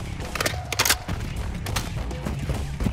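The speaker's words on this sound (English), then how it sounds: "You're shooting friendlies." Video game gunfire from Call of Duty Modern Warfare 2 comes as bursts of rapid shots and booms, loud and dense over a rumbling battlefield background.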